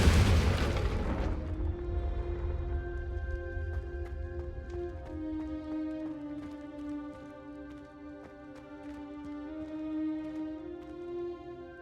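A Confringo spell goes off in the Hogwarts Legacy video game: one loud, booming blast at the start that quickly fades under sustained, tonal game music.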